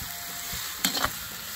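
Onions frying in a pan for a Lithuanian pork rib stew, a steady close sizzle broken midway by a brief burst of stirring.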